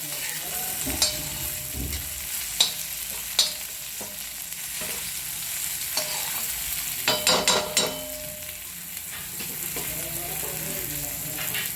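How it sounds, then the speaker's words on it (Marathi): Chopped tomato sautéing in a pan of village-style guar bean curry: a steady soft sizzle, broken by scattered clicks and scrapes of stirring, louder in a brief cluster near the end. "आता याच्यामध्ये आता टोमॅटो टाकला। टोमॅटोला परतून घ्यायचं।"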